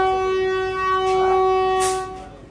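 A Vande Bharat Express sounds its horn from the rear of the train, heard as a steady, sustained tone lasting about two and a half seconds before cutting off.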